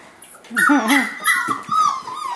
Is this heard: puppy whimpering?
yes